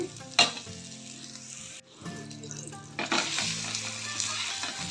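Ragi rava dosa frying in oil on a pan, a continuous close crackling sizzle with a sharp clatter near the start and a brief dip before the frying swells again, with no talking.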